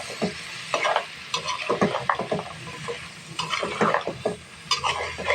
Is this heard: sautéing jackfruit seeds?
yes